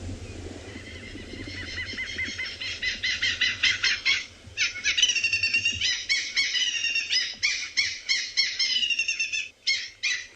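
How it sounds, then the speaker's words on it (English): A loud, cackling, laughing bird call plays from a phone bird app at a watering hole on a sunrise safari at Tswalu, as rapid bursts of harsh repeated notes running for about ten seconds. "It's a very loud cackling sound. This is off of my bird app."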